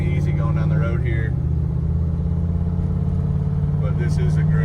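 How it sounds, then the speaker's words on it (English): A 1969 Shelby GT500 Convertible with a 428CJ V8 drives along the road on original tires, its deep engine burbling steadily and shifting pitch briefly, close and loud, with a voice speaking over it at the start and end. "So let's take it down the road, show you guys just how well this one drives."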